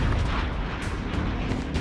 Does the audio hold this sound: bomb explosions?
yes